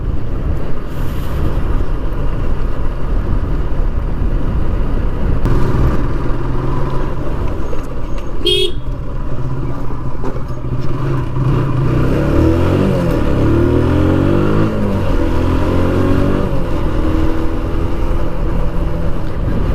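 A vehicle cruising along a highway gives a steady, loud road and engine rumble with wind noise, and a gear or rev change rises midway through. No one speaks.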